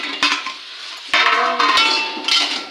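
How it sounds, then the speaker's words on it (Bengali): A metal plate used as a lid is lifted off a pan of cooked red amaranth greens with peanuts, giving a few bright metallic clanks and scrapes close by, spaced over a couple of seconds. "আমি থালাটা দিয়ে ঢেকে রেখেছি এখন আমি উল্টিয়ে দেখি শাকটা নরম সিদ্ধ হলো কিনা"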